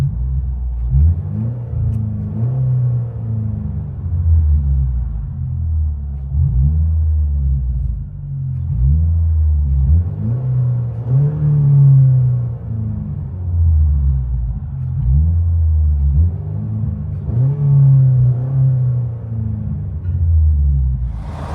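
A low, droning engine rumble heard from inside a straight-piped 2011 Buick Regal CXL, swelling and fading in a steady repeating pattern as the engine is revved over and over.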